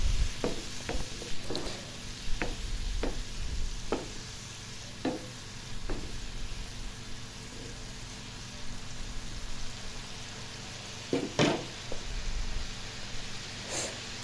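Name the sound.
turmeric, chili and coriander masala frying in pan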